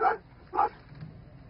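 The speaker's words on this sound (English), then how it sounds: "with recognizable barks, they can tell their handlers whether the victim is still breathing" Search-and-rescue sniffer dog at an earthquake collapse site in Taiwan giving two short, clear barks about half a second apart, close and fairly loud, then quiet background.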